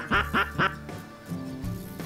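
During a duck and goose hunt, three sharp quacks come in quick succession, close and loud, followed by softer, lower quacking calls.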